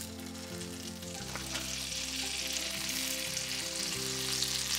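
Butter melts and sizzles in a stainless steel pan for making ghee, a constant bright crackle over steady tonal sounds in the background.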